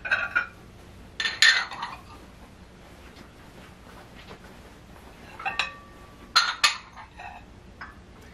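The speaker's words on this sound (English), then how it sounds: "Now let me go ahead and just set the table now" Dishes and wide soup bowls being set on a table clink and clatter in a few short bursts, with quiet gaps between the clusters of contact.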